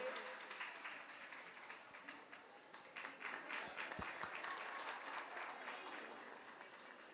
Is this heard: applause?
yes